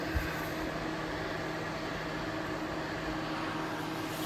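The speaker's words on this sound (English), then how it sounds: "you can hear that heater running in the background" A steady, faint mechanical hum and whir of a heater runs continuously, low and even, with no talking.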